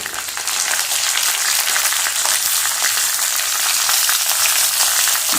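Green chillies and ginger frying in oil for a chana curry make a loud, continuous crackling sizzle that holds steady throughout, close and alone.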